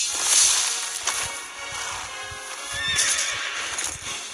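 A white horse from a Mobile Legends hero skin neighs loudly in a game, a bright whinny with hoof clip-clops and effect sounds close behind, no talking.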